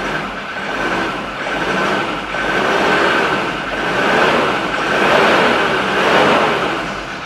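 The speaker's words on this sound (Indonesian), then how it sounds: "Kita coba dengar suara mesinnya." A 2014 Ford Ranger with a 3.2 engine running, a loud, steady, close rumble that gently swells and eases in waves, with no talking over it.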